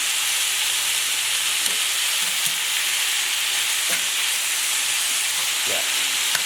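Cabbage fries in a skillet with a steady, broadband sizzle and hiss that holds throughout, broken by a few faint stirring scrapes.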